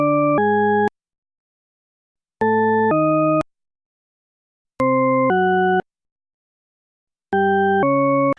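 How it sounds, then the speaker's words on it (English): Diana Deutsch's tritone paradox, four pairs of stepped synthetic tones in a loud, clean, even rhythm, each pair two held tones back to back and followed by about a second and a half of silence. "What you're hearing is Diana Deutsch's tritone paradox."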